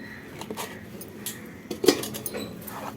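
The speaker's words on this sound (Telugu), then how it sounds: "ఇది వచ్చేసి నేను ఇలా బౌల్లో తీసేసుకుంటున్నాను" Ground bobbarlu batter is scooped out of a grinder into a bowl, with scattered scrapes, light clinks and knocks of a utensil against metal and glassware, close and intermittent.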